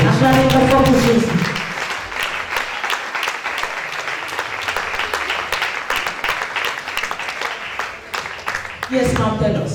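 Congregation applauding inside a church, dense sustained clapping for about seven seconds, with singing and voices at the start and end.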